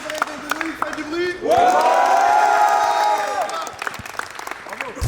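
Spectators at a basketball dunk contest break into a big burst of cheering and applause, a loud swelling roar of shouts and clapping that holds for about two seconds before fading into scattered yells.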